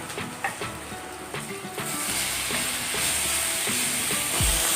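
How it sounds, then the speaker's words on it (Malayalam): Chopped small tomato sizzles in a hot pan, a steady broad hiss that swells louder after the first couple of seconds, with light stirring scrapes underneath. "ഇതിൻ്റെ പച്ചമണമൊക്കെ മാറുന്നവരെ ഒന്ന് സോട്ട് ചെയ്യാം."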